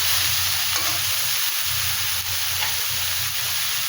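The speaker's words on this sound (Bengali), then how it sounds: "এবার ওই সবজি মশলার সঙ্গে ভালো করে ভেজে নেব" Vegetables fry with spices in a hot pan, a steady close sizzle and hiss that holds throughout, with soft stirring scrapes rising and falling every second or so.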